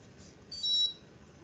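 A rheometer gives a short electronic beep when its Peltier hood connects. The single brief tone sounds clear in a quiet lab.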